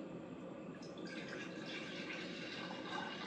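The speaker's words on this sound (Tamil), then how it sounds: "கொஞ்சமாக தண்ணி விட்டுட்டு" A little water poured into a pan of cooking greens for a mashed keerai dish, a soft, close trickle and splash that runs steadily for a few seconds and gently swells toward the end.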